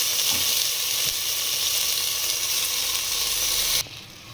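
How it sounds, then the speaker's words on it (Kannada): Washed horse gram fries in hot oil inside a pressure cooker: a loud, steady, close-up sizzle that holds evenly and then drops abruptly to a quieter hiss near the end. "ಇದು ಫ್ರೈ ಆಗ್ತಾಯಿದೆ"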